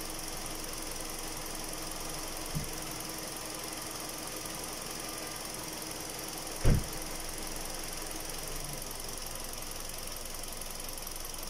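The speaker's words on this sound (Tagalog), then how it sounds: "umandar na yung pan ng ating radiator" A Kia Rio engine idling with its radiator fan running during a coolant change, a steady low hum and whir with two brief knocks, one sharper thump midway, no talking.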